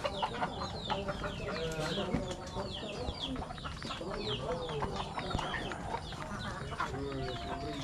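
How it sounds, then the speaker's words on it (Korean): A flock of chickens clucks busily while feeding on a farm in Lombok, Indonesia, with many overlapping near and far calls that run continuously, mixed with other birds and faint background voices. "닭 밥 먹고 있어."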